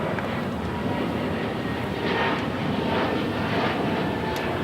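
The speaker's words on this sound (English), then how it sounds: "that JetBlue A220 taking off" A JetBlue Airbus A220-300 takes off from runway 25 right at LAX, its engines producing a loud, steady roar that fills the whole stretch.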